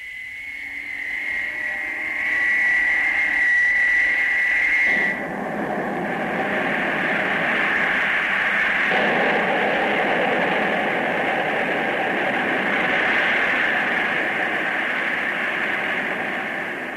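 Rising whoosh and roar of a spaceship taking off, a sound effect in a 1957 CBS Radio Workshop science-fiction drama, building to a loud, steady rushing drone that holds for many seconds with no voices over it.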